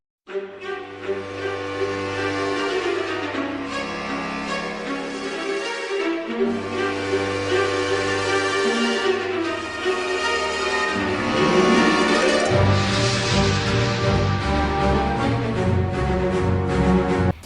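The early theme music for the video game Epic Mickey: layered instrumental music plays steadily with a bright melody over bass and chords, growing fuller and louder partway through, with no talking.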